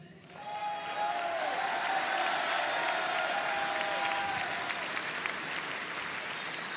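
A crowd at a political rally claps in sustained, even applause that swells in and holds loud and steady, with faint whistles or tones riding above it.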